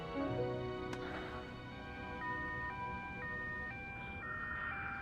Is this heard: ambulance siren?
yes